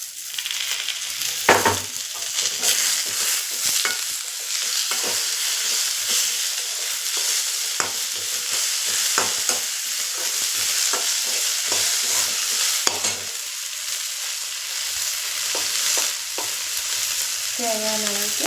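Chopped tomatoes frying in a pan, a continuous close sizzle broken by repeated scraping stirs and occasional utensil knocks, fairly loud throughout.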